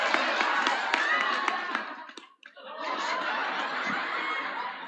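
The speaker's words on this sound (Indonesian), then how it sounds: "tepuk tangan kagem Pak Mas'ud" Audience clapping and laughter at a Javanese Islamic religious gathering, a dense, steady wash of applause filling the room, briefly dipping to near silence midway before resuming at full strength.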